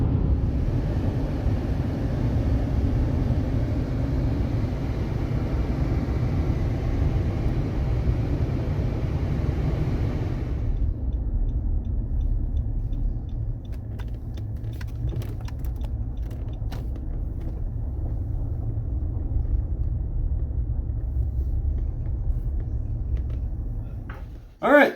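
Steady low rumble of a car on a 40-minute drive, a broad road and engine drone that holds throughout, its upper hiss dropping away partway through, with no talk.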